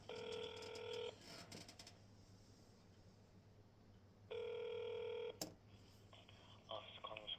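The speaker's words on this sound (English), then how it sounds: "Connecting you to the office of Representative Nancy Mace. See if we can't speak. Dialing." A phone call being placed to a congressional office: steady multi-tone dialing bursts at the start and again mid-clip, with a hum and faint clicks between, no talking.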